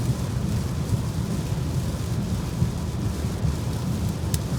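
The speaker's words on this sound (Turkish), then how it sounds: "Hala felaket yağıyor." Heavy rain pours on a car while driving in a dense, steady roar, loud and unbroken throughout, with no voices.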